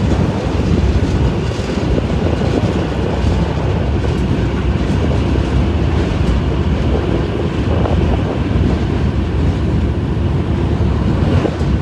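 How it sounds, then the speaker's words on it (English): A train runs along rails close by near the sea, a loud, steady rolling rumble with faint clickety-clack and wind buffeting the microphone throughout. "Yep, that's the train up here"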